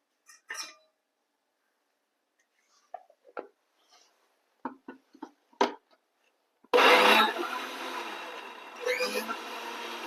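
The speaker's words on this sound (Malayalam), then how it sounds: "ആദ്യം നമുക്ക് ഈ ചക്ക മിക്സിക്കകത്ത് ഒന്ന് അടിച്ചെടുക്കാം." Mixer grinder blending jackfruit for a sweet appam, a loud broadband whirring that starts abruptly and runs steadily for the last few seconds, following brief clicks and knocks of handling the jar.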